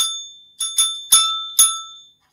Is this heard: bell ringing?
yes